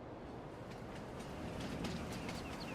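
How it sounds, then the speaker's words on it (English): A train rumbles past steadily in the Farming Simulator 22 video game, with a continuous low roar and faint rhythmic clacking throughout, near and fairly loud, without voices. "Oh, we almost got taken up with the train."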